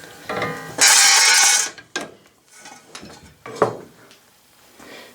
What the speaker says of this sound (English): here it is in action, and that's just soft aluminum, so it doesn't take too much to punch it